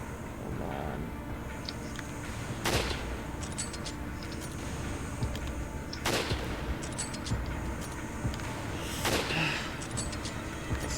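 Gunshots in the video game Resident Evil 5 on PS4, three sharp reports spaced a few seconds apart over a steady bed of game ambience, with a faint voice and no continuous firing.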